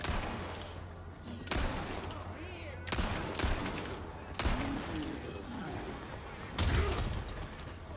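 Pistol fire in Resident Evil 4 Remake: a handful of sharp, loud gunshots spaced one to two seconds apart, each with a ringing tail, over game ambience.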